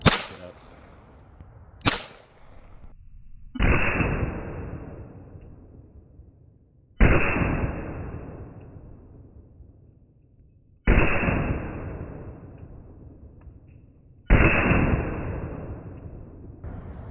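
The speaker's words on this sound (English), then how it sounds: "Let's shoot a couple more mags through it, see if we can really do some damage." Four loud, widely spaced 9mm pistol shots ring out against a TCRT steel target outdoors, each sharp crack trailing off in a long, decaying echo, with a faint metallic click beforehand.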